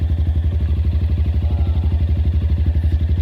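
A 2022 Suzuki KingQuad 750AXI fuel-injected single-cylinder ATV engine idles close by, a steady, even, rapid thumping pulse with no pauses.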